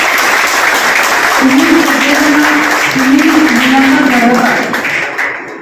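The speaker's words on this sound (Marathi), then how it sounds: "पुन्हा एकदा जोरदार टाळ्या वाजून आपण आदर द्या मॅडमचा" Steady applause from an audience at an award ceremony honouring a woman at a women's college, sustained clapping throughout with a voice speaking over it and fading slightly at the end.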